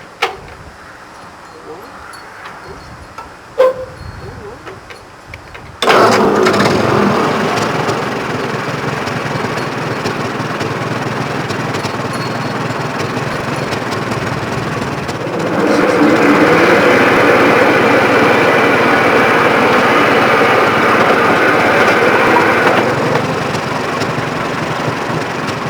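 A tractor engine running while a child rides with her grandfather. It starts abruptly, then holds a steady high-pitched drone that grows louder for a stretch before easing. Voices can be heard faintly around it.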